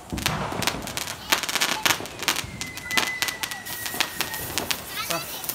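A multi-colour falls firecracker goes off outdoors in a rapid string of sharp crackling pops. A thin whistling hiss runs through part of it, and voices are heard in the background.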